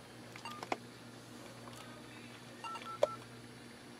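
Faint telephone keypad tones from a Panasonic RC-T340D clock radio phone with sticky buttons at very low volume, a few short, quiet beeps spaced apart over a steady background hum.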